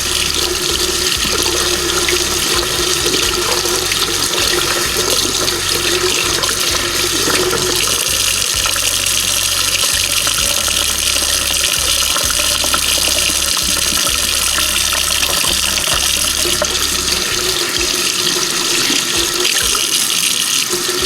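Tap water runs steadily into a sink while makeup brushes and sponges are rinsed under it, a continuous close rushing gush with small shifts as the brushes move through the stream.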